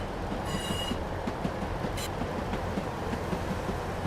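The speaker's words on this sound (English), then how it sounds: "Our way into Manchester now, in little 158 diesel multiple unit" A class 158 diesel multiple unit in Train Sim World 3 rumbles along the Glossop line, with a steady rolling drone, rhythmic wheel clicks and brief high squeals.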